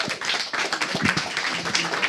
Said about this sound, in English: Ladies and gentlemen, a round of applause, please, for MYM and Fnatic.